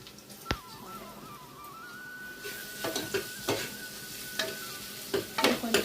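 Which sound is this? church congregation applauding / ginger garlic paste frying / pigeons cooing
ginger garlic paste frying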